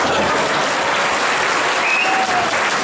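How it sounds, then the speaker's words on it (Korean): A crowd at a talk concert fan meeting claps for the host, a dense, loud, steady wash of applause throughout with no pauses. "훌륭한 진행자에게 박수 한번 부탁드리겠습니다."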